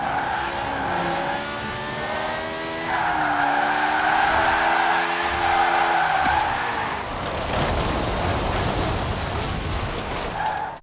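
Engine-swapped car skidding in Forza Horizon 4: a loud, continuous engine drone with shifting revs and tire squeal. It breaks into a harsh, noisy skid toward the end, with no talk.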